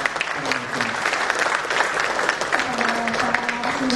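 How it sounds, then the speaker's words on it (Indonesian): Sustained audience applause for the speakers at a book launch event: steady, full clapping throughout, with a voice talking over it at times. "Mari kita berikan aplaus sekali lagi kepada"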